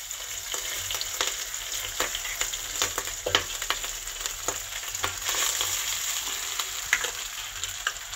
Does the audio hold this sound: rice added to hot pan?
yes